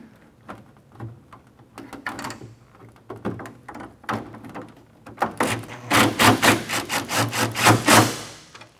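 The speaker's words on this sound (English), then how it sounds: "now we're gonna secure this using the factory bolts that we took out earlier" Bolts going into a Ford F-150 grille, an X Metal T-Rex Torch unit, produce clicks, knocks and ratcheting tool bursts. These start sparse and grow into a louder, steady run of rapid clicks near the end, with no talking.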